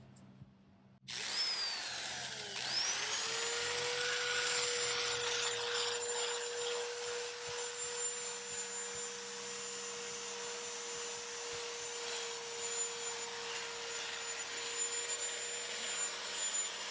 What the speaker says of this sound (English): I'm going to wet sand, so I'll spray this down and sand it.